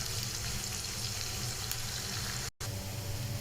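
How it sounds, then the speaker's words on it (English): Onions frying in oil in a cooking pan for a Kenyan meal, an even, soft sizzle running steadily throughout with a brief dropout near the end, no talking. "I just put some oil in the cooking pan and I put my onions, so I let them cook until they are golden brown"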